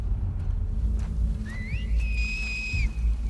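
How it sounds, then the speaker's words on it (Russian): Enemy whistling signals in The Last of Us Part II: several clear rising then level tonal whistles, one short and one long sustained, over a low rumbling game background. "Их же по-любому, да, учат свистеть специально."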